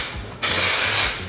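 A can of spray adhesive releases glue onto van carpet inside a VW Transporter T5 as a single close, loud hissing burst of about a second that starts abruptly and fades at the end.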